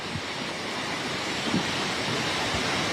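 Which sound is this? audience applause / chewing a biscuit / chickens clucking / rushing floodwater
rushing floodwater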